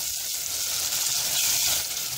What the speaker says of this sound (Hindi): अब मैं इसके अंदर प्याज ऐड करूंगी। और अब मैं इसे फ्राई करूंगी।